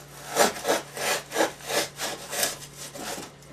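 A piece of wood being trimmed with a hand saw, about ten even back-and-forth rasping strokes in a steady rhythm, close and clear with no talking.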